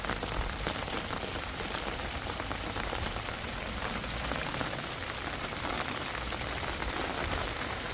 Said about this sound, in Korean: 빗소리 때문에 많이 시끄러우실 것 같아서